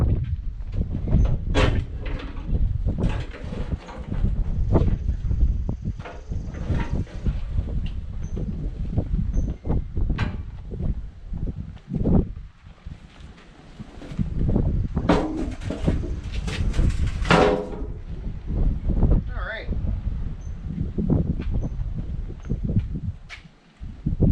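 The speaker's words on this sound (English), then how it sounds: "I don't know how the audio is going to be with the wind" Gusty outdoor wind buffets the microphone while a John Deere 322 garden tractor is being cleaned, loud low rumbling gusts rising and falling throughout with occasional handling knocks and rattles.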